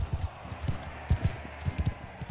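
Horse hooves thudding in a galloping rhythm in Mount & Blade II: Bannerlord, a steady run of close, soft clip-clop beats over low battle ambience.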